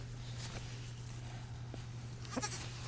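A homestead goat bleats a few times, fairly close, over a steady low hum and light background noise, with brief rustling or steps.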